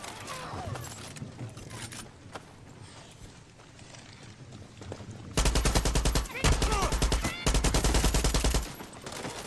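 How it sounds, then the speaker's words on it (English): Gunfire aimed at the player in a video game: scattered shots, then loud rapid automatic bursts in quick succession that drown out quieter background game sounds. "Bro, who's shooting me?"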